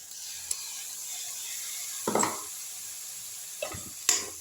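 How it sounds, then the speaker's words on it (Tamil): Tomato and coriander powder masala sautéed in a pan, a quiet steady sizzle broken by three or four short clatters and scrapes of the spoon against the pan. "எல்லாத்தையும் நல்லா வதக்கி விட்டுருவோம்"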